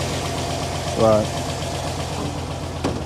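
An old GM LS V8 engine idles steadily with a low, even hum and a slight startup noise. A voice briefly speaks over it near the start, and a short knock sounds toward the end.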